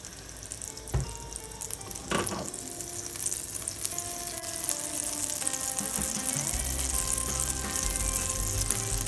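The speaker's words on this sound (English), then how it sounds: "Now we're going to shallow fry them in a pan." Tuna and vegetable cigars shallow frying in butter and a little oil in a pan give off a steady, close sizzle that runs the whole time, with a couple of brief clatters early on and no talking.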